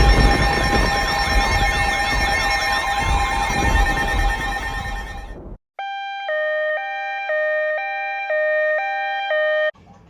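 A GE 7-4845A weather radio sounds its alert siren, first a loud sweeping wail that cuts off, then a clean pulsing two-tone beep repeating in a regular rhythm.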